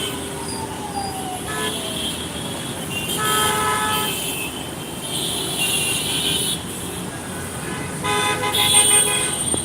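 Busy street traffic in Dhaka, with repeated car horn toots and honks sounding over a steady roar of vehicles and motorcycles, continuous and fairly loud throughout.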